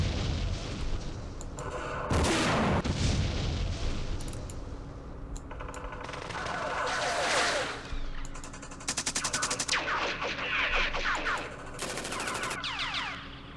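Mortar fire booms in the Vietnam wargame Campaign Series Vietnam, repeated loud blasts mixed with rattling machine-gun bursts and rolling explosions throughout the battle.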